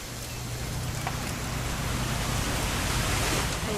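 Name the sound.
rain falling, from a video game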